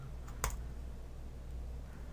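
A single short click of a right mouse button on a computer, sharp and close, heard once over a quiet, steady room hum.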